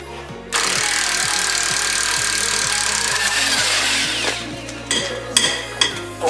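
A power tool runs loud and steady on a Nissan 350Z rear suspension arm install, its motor droning for about four seconds before cutting into short bursts near the end.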